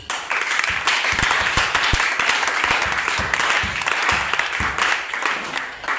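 A church congregation in Lubumbashi breaks into sustained applause, a dense, steady wash of many hands clapping at once, close and loud, with a few sharper individual claps standing out throughout.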